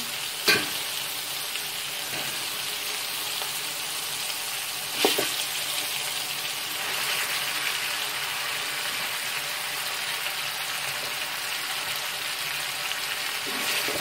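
Cow trotters sizzle and fry steadily in a pot, a dense bright crackle that holds throughout, with a couple of sharp clanks as they are stirred near the start and middle.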